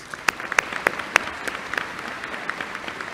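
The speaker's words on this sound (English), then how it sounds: "Let's give them all a round of applause." A commencement audience at an engineering school ceremony applauds faculty, with steady crowd clapping and a few sharp, louder claps standing out near the front.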